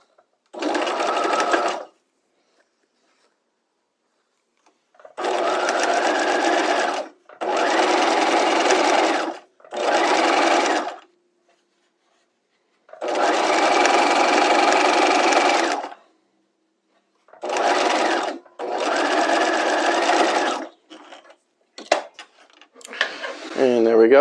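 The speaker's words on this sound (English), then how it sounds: "let's go ahead and stitch this on" A sewing machine stitches a bias strip onto a hem facing in several close, loud bursts of rapid whirring separated by silent pauses, with a brief faint clatter at the end.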